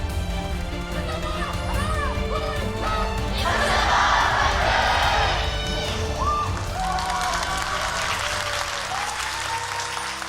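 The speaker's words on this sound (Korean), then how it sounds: "양 팀을 응원하시는 팬 여러분들께서 뜨거운 환호성을 한번 불러주셨고요" Esports fans at an LCK Spring Split match between BRO and LSB cheer and applaud loudly through the whole stretch, swelling in the middle, with whoops and shouts over a steady clapping roar and some voices mixed in.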